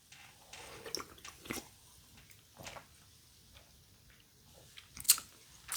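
Blue Rays candy from an Action store haul is chewed and bitten in soft, irregular crunchy bursts close to the mic, with a sharp crackle near the end.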